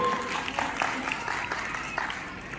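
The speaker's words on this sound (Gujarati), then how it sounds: "તાળીઓથી વધાવી લેશો." Applause from an audience at a community cultural programme, a brief patter of scattered claps at moderate distance, not very loud, with a voice faintly under it.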